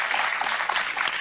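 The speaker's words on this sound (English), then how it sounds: "you hear their stupid audience that are clapping" Studio audience of The View applauding, a dense continuous wash of many hands clapping at steady loudness throughout, with no talk over it.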